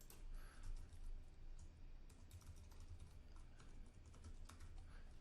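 Steady run of fingers typing a password on a computer keyboard, quick irregular clicks sounding close and moderately quiet, with no talking.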